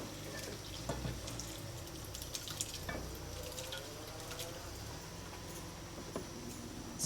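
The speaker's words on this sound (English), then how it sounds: "Pouring off the whey mostly." Whey poured off cheese curds, faint trickling and dripping liquid with scattered small splashes and clinks, quiet and close.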